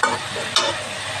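Spices fry in a pan for a jackfruit and prawn curry, a loud close sizzle with two brisk scraping stirs breaking through the steady hiss.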